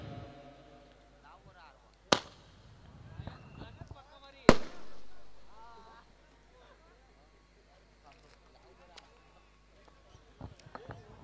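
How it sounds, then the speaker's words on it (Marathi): Fireworks set off at a night cricket match crack in two loud, sharp bangs a couple of seconds apart, the second trailing into a rumbling echo, over faint crowd noise and scattered smaller pops. "फटाक्यांची आतिषबाजी करताना"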